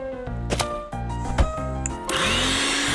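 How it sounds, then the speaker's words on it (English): A kitchen blender in an SMG4 animated cartoon whirs and revs in short bursts with clicks, then settles into a steady high whine near the end. "Blender."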